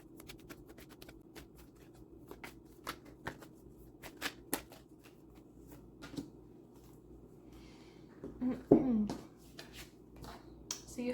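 A Chakra Oracle Insight card deck being shuffled by hand, giving a steady run of soft, close riffling and flicking card sounds with scattered sharper snaps and a brief louder burst near the end.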